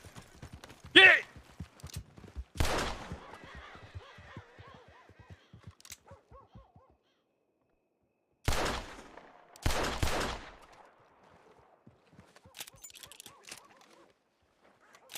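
Gunshots ring out in a Red Dead Redemption roleplay game, scattered loud cracks with echoing tails, some single and some in quick pairs, separated by quiet gaps, with faint game sounds in between.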